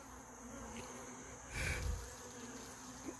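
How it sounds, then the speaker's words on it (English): Honey bees on a hive frame hum in a soft, steady buzz close by, swelling briefly louder midway as the insects stir, then settling back to a faint drone. "Quite a few more bees in here than there was."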